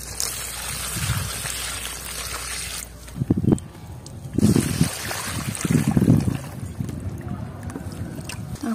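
Pond water is poured into a container packed with celandine plants, giving a rushing, splashing gush with several heavier surges, close and fairly loud, with no one talking.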